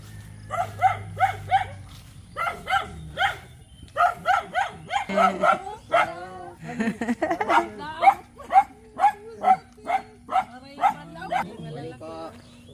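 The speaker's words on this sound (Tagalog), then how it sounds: "Gagalit na yung aso." A dog barks angrily in repeated sharp bursts, some in quick runs, with people talking in between and over the barking, at an old house in Bicol, Philippines.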